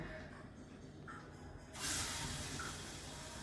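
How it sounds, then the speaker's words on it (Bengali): Chickpea-lentil fritters (chana dal batter with green chilli, chilli powder, turmeric and salt) frying in hot oil, giving a steady close sizzle that suddenly swells louder partway through as batter hits the pan. "তেল গরম হয়ে গেছে এবার আমি বড়াগুলো ভেজে নেব"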